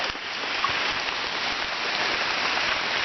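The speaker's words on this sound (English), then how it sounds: "Well, it's raining." Steady rain falls in a dense, even hiss, close by and unbroken, with faint drips landing on a surface.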